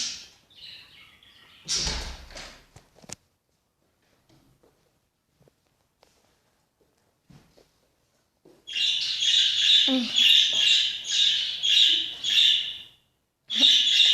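Birds chirp loudly and continuously in dense, high-pitched bursts after a mostly quiet stretch with a few faint knocks.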